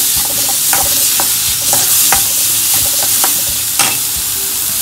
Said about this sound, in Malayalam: ഇത് നന്നായിട്ട് വഴറ്റണം.